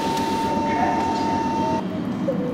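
A train at the Nagoya airport station, with a steady close rumble of rolling carriages and a faint tonal whine throughout, then a brief shift in the noise near the end.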